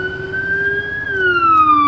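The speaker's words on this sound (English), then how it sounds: "Y'all hear them sirens, bro." Police siren wailing with a steady, slowly falling tone, fairly close and loud, heard over faint road traffic with no talk.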